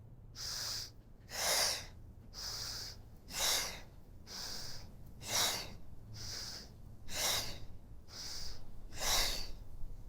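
Deep, rhythmic breathing during a Pilates core workout, with regular alternating inhales and exhales, close and soft, repeating about ten times with no talking.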